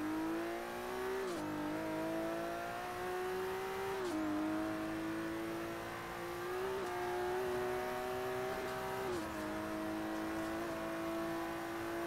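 A 1981 BMW M1 sports car engine in Forza Horizon 3 revs and accelerates through repeated gear shifts, the pitch climbing and dropping several times, steady and close with no talking.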